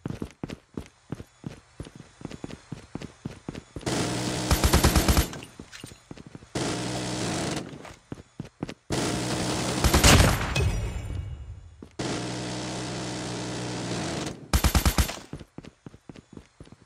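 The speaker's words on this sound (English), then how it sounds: "Friendly sentry gun deployed." Automatic sentry gun in Call of Duty fires in rapid bursts between quieter stretches of footsteps, the loud volleys close and harsh against a steady background of game noise.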